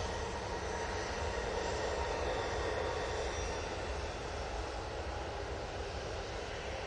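An easyJet airliner bound for Djerba roars steadily at Manchester Airport, a continuous broadband engine rumble that stays loud and even throughout with no voices.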